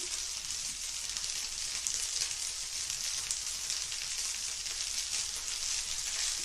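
Fried rice sizzles steadily in a hot pan while egg is folded and stirred through it, a continuous close frying hiss with soft scraping underneath and no voices.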